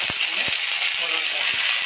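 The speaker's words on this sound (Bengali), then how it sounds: "চাটনির ফোড়নটা দিচ্ছি, শুকনো লঙ্কা, সর্ষে আর কারি পাতা" Dry chillies, mustard seeds and curry leaves hit hot oil as a tempering for chutney, producing a dense, loud crackling hiss throughout with a few soft thumps underneath.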